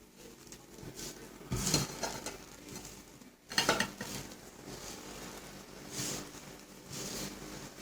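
Chebakia dough ingredients being mixed by hand in a bowl with warm water and homemade yeast, soft uneven sloshing and clinking with a couple of louder knocks against the bowl, close and quiet.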